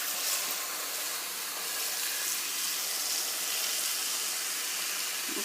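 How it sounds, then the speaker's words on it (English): Water pours steadily over cut peaches, a continuous soft hiss and splash with no talking. "now what I'm going to do, I'm going to add water to my peaches."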